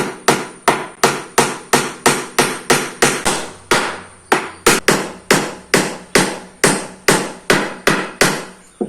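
Steady hammer blows drive nails into a wooden mould for a stingless bee box, about twenty sharp, evenly spaced strikes ringing loud and close with no talk.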